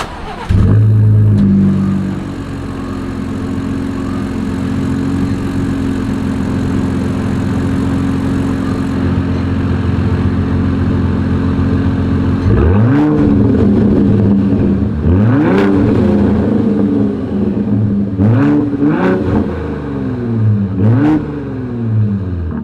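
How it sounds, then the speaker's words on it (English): A 2024 Ford F-150 Raptor with an EcoBoost engine starts with a loud burst, settles into a steady idle, then the exhaust gives several sharp revs that rise and fall, close and loud. "I do like the exhaust."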